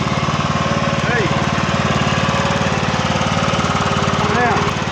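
A ride-on lawn mower's engine runs steadily up close with a throbbing, pulsing drone throughout, while voices talk over it.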